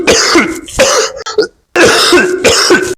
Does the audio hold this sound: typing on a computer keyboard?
no